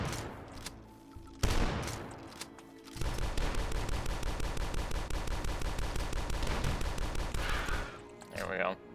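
Sustained rapid gunfire in the first-person shooter Dusk, a loud repeating burst of shots with a steady rhythmic pulse lasting several seconds, preceded by a few heavy blasts and followed by a brief scrape at the end.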